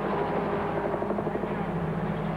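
A helicopter films the 1991 Formula Ford race at Bathurst, producing a steady, droning rotor and engine hum with a rhythmic chop that fills the whole stretch at an even level.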